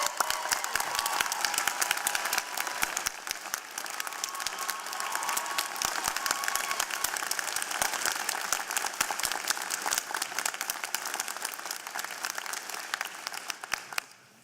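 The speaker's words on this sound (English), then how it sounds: "let's have a special round of applause for them" Sustained applause from a large convocation audience honouring Okanagan College professors, a dense continuous roar of clapping held for many seconds before tapering off at the end.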